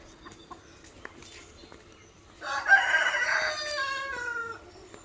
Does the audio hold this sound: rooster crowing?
yes